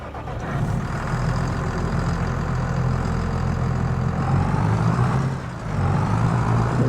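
A tractor engine in Farming Simulator 25 runs at a steady, loud, low rumble that holds almost constant for several seconds, with a brief dip in level near the end.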